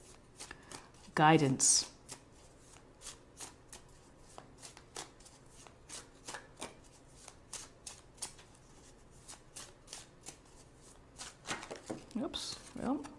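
Tarot cards are shuffled in a quick burst, then drawn, making a long series of crisp, evenly spaced snaps and flicks close by, while a person talks over them.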